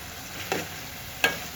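A curry in a pan is stirred just after coriander goes in, two soft scraping strokes against a faint sizzle, quiet and close with no voices.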